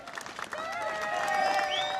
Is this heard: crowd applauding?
yes